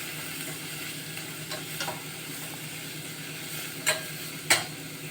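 Vegetables for veg fried rice are stirred in a pan, with a soft, steady frying sizzle under a few sharp scrapes and clinks from the spatula near the end.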